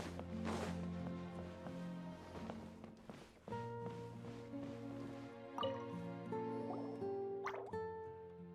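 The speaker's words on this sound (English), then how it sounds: "Sounds like a water droplet is on the second floor." Bright plinking water droplets fall one after another in Genshin Impact, each drip ringing out like a soft musical note over a gentle melodic background, steady and moderately close.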